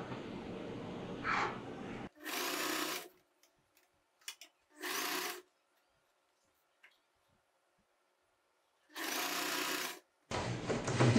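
Sewing machine stitching a churidar neck, running in three separate loud bursts of a few seconds each with quiet pauses between, close up and with no talking over it.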